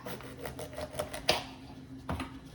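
A knife cutting poblano peppers on a board, a run of light rhythmic chops and taps with one sharper knock, close and fairly quiet.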